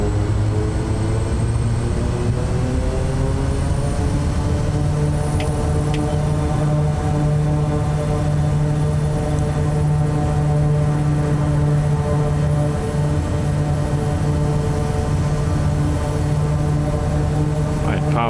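A propeller aircraft engine runs at takeoff power in Microsoft Flight Simulator 2024, a loud, steady droning roar with a strong low tone whose pitch rises slightly as speed builds, while a voice talks over it.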